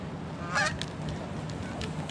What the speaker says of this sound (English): There goes the goose.